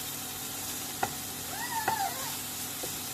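Rice stir-fried in a home pan before being boiled into rice soup, giving a soft steady sizzle with a few scraping stir strokes of a utensil, fairly quiet and without talk.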